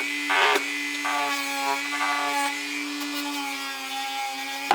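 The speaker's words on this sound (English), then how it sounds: "use a little bit of dremeling or sanding to round this area out" A steady high-pitched whine of a Dremel rotary tool grinding metal on a Mazda Miata rollbar, with a brief harsher burst near the start, running continuously and fairly close.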